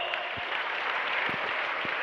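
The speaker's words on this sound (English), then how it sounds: "can we have the loudest round of applause for Sunbeam Bhagwanpur?" Audience applause at a school farewell event for Sunbeam Bhagwanpur, a steady dense wash of many hands clapping that continues evenly throughout without a break.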